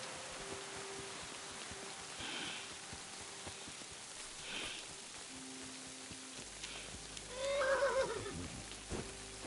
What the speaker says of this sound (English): The horse! It really is here, and it looks like it wants me to follow it.